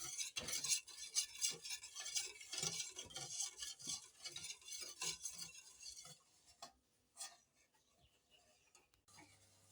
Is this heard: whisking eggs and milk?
yes